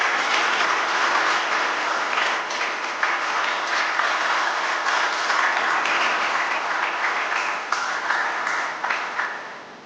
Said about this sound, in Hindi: तालियां कीजिएगा हमारे लिए